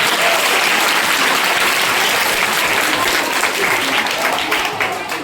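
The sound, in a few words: children clapping at a school camp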